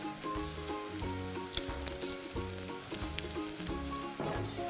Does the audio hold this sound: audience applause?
no